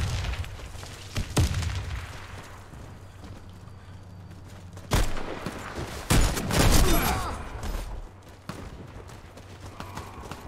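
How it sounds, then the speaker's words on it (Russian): A grenade blast and gunfire ring out in the online shooter Warface, with several sharp, loud bursts and a rumbling explosion rising over a quieter background of game noise. "Кидаю гранату."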